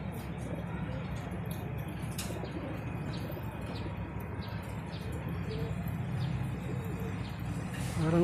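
Racing pigeons at a loft in San Ildefonso, Bulacan coo softly and steadily amid a dense, continuous low murmur, with faint chirps and talking voices mixed throughout.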